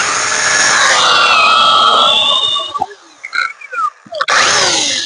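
A cordless Narion 8-inch chainsaw bites into a thick tree trunk outdoors, its loud buzzing whine rising and falling under load, breaking into short bursts and pauses before revving hard again at the end.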